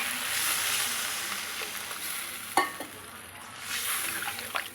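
Three green chillies sizzle softly in a pan while cooking shol fish with radish and potatoes, a faint steady hiss broken by a sharp utensil clink and a few light stirring taps.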